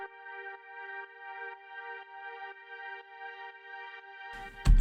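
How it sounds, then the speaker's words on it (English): Sustained synth strings and pad chords built from an M1 strings preset hold steady in a deep house arrangement, layered tones swelling gently, before a loud burst of other sound cuts in at the very end. "We then move on to the strings and pads."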